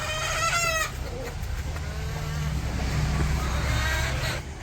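Chickens on a village farm clucking in a short rising series at the start, close and clear, then fainter calls over a steady low hum and general outdoor background.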